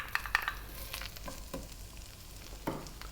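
Chopped onion hits melted butter in a pan over medium heat, giving a few sharp crackles and stirring scrapes over a soft, steady sizzle, heard close up with no talking.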